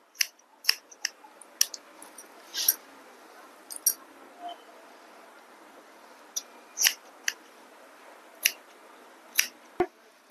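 Scissors snipping through heavy hair during a beginner haircut, with sharp, close, crisp cuts coming singly and in small clusters at irregular intervals over quiet background.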